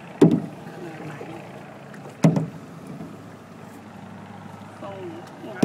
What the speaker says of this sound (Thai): ต้องงัดพาย ค่อนข้างจะ มากงัดพายก็ค ือกดพาย ลงไปลึกๆแล้วก็งัดมัน